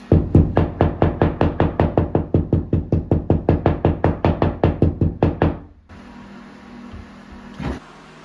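A hammer strikes a perforated stainless steel board during a repair, about thirty quick, evenly spaced metallic knocks close by. The blows stop abruptly, leaving a low hum and one last faint tap.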